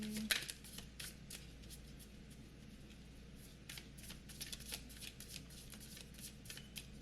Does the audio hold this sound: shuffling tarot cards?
yes